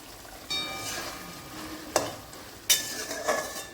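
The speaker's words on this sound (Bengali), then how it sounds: "ছালটার পুরো জলটা জ্বালিয়ে শুকিয়ে নেব।" Desi chicken skin cooks in a kadai as its boiling water is driven off, giving a steady close hiss and sizzle with a couple of sharp utensil clinks partway through.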